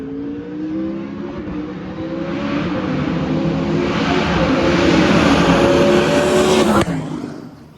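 Race car engines rev and roar steadily in the distance at the Pikes Peak International Hill Climb test, building in intensity, with a brief squeal near the end.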